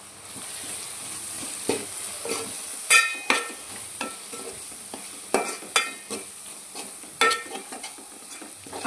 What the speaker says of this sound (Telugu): మీడియం ఫ్లేమ్లో పెట్టుకుని ఫ్రై చేసుకోవాలి.